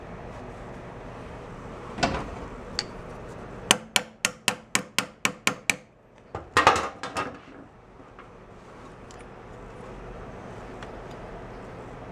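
Quick series of about eight sharp metallic hammer taps on an old Puch Sport moped that sat unused for 22 years, close and evenly spaced, with a few scattered knocks and clunks before and after in a quiet garage.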